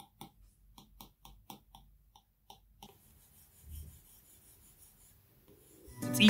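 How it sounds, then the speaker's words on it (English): Stylus strokes on an iPad fitted with a Paperlike matte screen protector, a run of short, quiet, evenly spaced scratchy taps and rubs close up, alone, then a brief louder rustle at the end. "Paperlike makes these amazing matte screen protectors which gives you more control and grip while taking notes or drawing. It sounds and feels like real paper."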